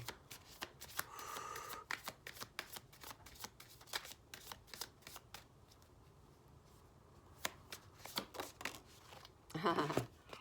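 Tarot cards being shuffled and drawn by hand, a long run of crisp riffling flutters and snaps up close, easing off midway before a final burst of card handling.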